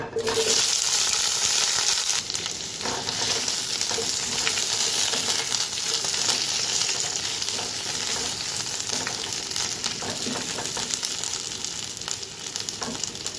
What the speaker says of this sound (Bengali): তো এক এক করে সব ভেজিটেবলগুলো ভেজে নিই